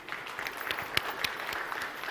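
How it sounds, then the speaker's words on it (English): Scattered, fairly distant applause from an audience at a Vespa anniversary celebration, with a few sharp individual claps standing out against a soft, diffuse patter. "Can we have a round of applause, everybody?"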